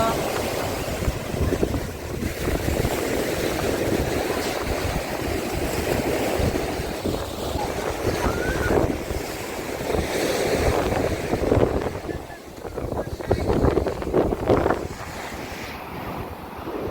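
Steady, strong wind on an Odesa beach buffeting the microphone with a continuous roar, gusts rising and falling throughout, along with a wash of surf-like noise.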